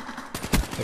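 Gunfire in Call of Duty Black Ops 3 team deathmatch, with a sharp loud shot burst around the middle of a short, busy stretch of game noise.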